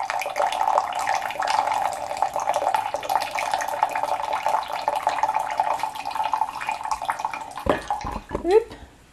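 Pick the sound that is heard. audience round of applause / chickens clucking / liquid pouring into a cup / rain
liquid pouring into a cup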